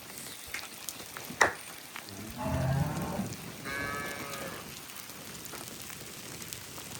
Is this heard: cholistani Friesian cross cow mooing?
yes